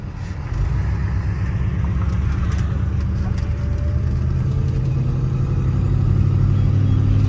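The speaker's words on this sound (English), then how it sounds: "as you can hear, the exhaust leak has died down a little bit as this engine is warmed up" A 1955 Packard Clipper Super Panama engine idles steadily up close with a low, rumbling exhaust drone and a faint ticking rasp from an exhaust leak, continuous throughout.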